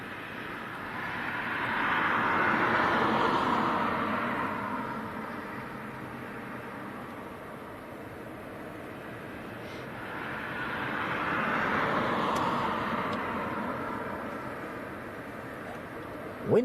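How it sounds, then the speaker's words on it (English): Storm Jocelyn wind howling through trees: a broad, rushing roar that swells for a few seconds, fades, then builds again in a long gust, steady and moderately loud without talking. "Wind is really, really howling."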